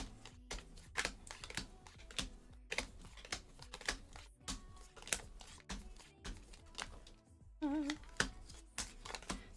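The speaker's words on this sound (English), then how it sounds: "I'm going to pile shuffle again, just to make sure" Playing cards being pile shuffled, dealt one by one into stacks, make a quick run of light, close tapping clicks with brief pauses between bursts.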